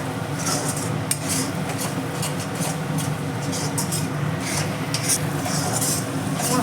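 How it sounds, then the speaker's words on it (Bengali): A spice paste for mutton kosha frying in oil, stirred continuously in a pot; a dense steady sizzle with rhythmic scraping strokes on top, close up, without talk. "দেখুন মশলাটা বেশ কষছে তেলও বেরোচ্ছে মশলা থেকে"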